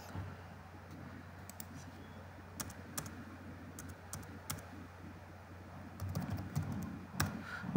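Typing on a computer keyboard: scattered sharp key clicks over a steady low hum, close by, with a quicker run of keystrokes near the end and no one speaking.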